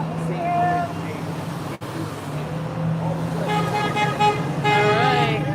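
A car drives past on a street outside a protest, its engine and road noise steady under people talking, with a short horn toot near the end.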